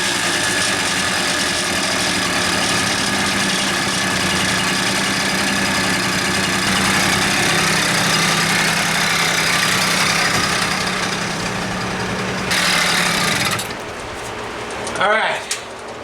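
A Garelli VIP moped engine idles after its first start, a steady, close buzzing drone that runs for about thirteen seconds before cutting out, followed by a few brief knocks.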